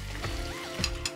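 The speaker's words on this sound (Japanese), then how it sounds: "しっかり煮詰めてペースト状にします" Tomato sauce bubbles and sizzles in a pan as it cooks down into a thick paste, a soft close simmer with a few brief pops and clinks over a short span.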